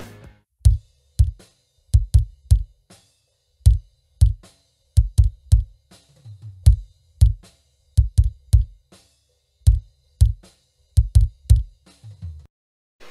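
Punchy, processed kick drum hits played alone in fast irregular bursts and doubles, tight low thump with a clicky attack, loud and close.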